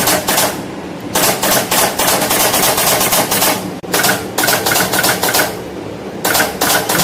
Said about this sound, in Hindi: हर एक सेल को स्पॉट वेल्डिंग के थ्रू जोड़ेंगे।